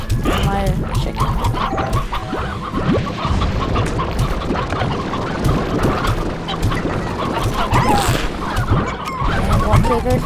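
Chickens cluck in the video game Slime Rancher, a busy run of short repeated clucks and calls mixed with other game noises, loud and continuous across the whole stretch.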